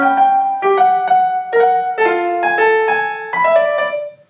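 Piano notes sound in a jumbled, unpredictable order, notes and intervals shuffled, each struck distinctly at an irregular pace, close and clear with no voices.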